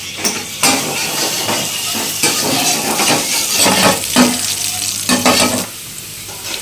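Chopped red tomato dropped into hot oil for handi chicken masala, frying with a loud, continuous sizzle and repeated metal spatula scrapes and clinks against the pan.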